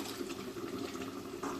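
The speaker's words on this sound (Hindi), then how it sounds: "पानी को जोश आ गया, हम राइस डाल देंगे" Washed rice pours into boiling water for mutton biryani, making a continuous, muffled watery rush and bubbling that stays steady and fairly quiet, with no voices over it.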